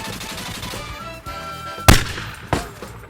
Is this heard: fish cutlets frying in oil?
no